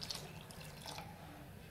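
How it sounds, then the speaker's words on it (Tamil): Water poured into a pot of half-cooked moong dal while making paal kozhukattai, heard as a soft, steady trickle and splash at low volume throughout. "கொஞ்சம் தண்ணி ஊற்றிடலாம்."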